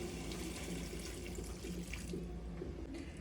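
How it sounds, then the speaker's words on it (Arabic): Water pours steadily into a pot of simmering kebab, a continuous splashing rush with light clinking and no speech. "هضيف له شويه ميه تاني."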